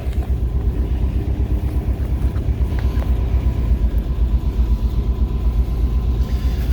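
A 1990s Brazilian Volkswagen Clipper bus with its engine idling, a steady low pulsing rumble that stays close and even throughout, with no talk over it.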